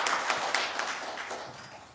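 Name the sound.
audience applause at policy forum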